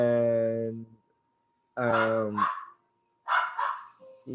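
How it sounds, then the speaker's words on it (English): A dog barks across the street in a few short bursts. The barks are loud and carry harmonics, and people talk between them. "Why is there a dog barking across the street?"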